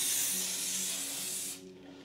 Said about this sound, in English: what I did actually end up doing is spraying the silicone spray in